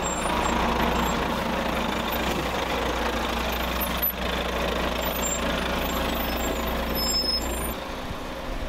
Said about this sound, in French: il croise un autre convoyeur de lait stationné sur le bas-côté